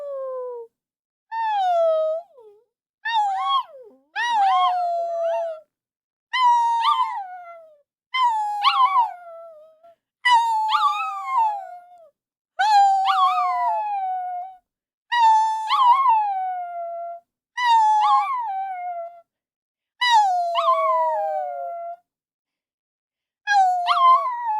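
A dog howls and whimpers in a long series of drawn-out, wavering cries with rising and falling pitch, about a dozen separate calls with short gaps between, close and loud against otherwise silent background.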